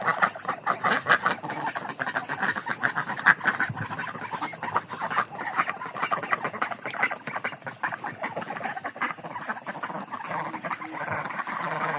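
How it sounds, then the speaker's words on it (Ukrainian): Dense, continuous quacking and squawking from a flock of ducks nearby in a farmyard, with busy overlapping calls throughout. "Ось качки. Зараз я їх буду вже закривати."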